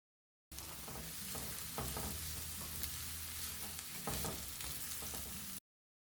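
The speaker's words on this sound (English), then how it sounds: "Heat 2 tablespoons oil. Add 4 sliced onions." Four sliced onions frying in two tablespoons of hot oil in a pan for paneer makhani, with a steady bubbling sizzle and occasional stirring clatter, close and fairly quiet throughout.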